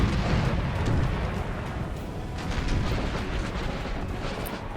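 Distant rumbling cannon fire from 4-pounder and 8-pounder artillery on a Napoleon Total War battlefield, a continuous low roar of blasts blended with broad battle noise, fairly quiet and with no clear single shots.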